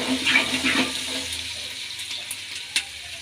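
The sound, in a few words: frying ingredients in oil in a pan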